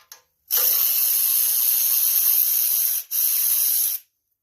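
A ratchet with a 10mm socket loosens carburetor nuts on a 414 cc generator engine, making a loud, close, continuous hissing whir in two long runs split by a brief pause.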